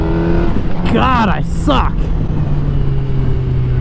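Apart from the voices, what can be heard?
motorcycle revving during a wheelie attempt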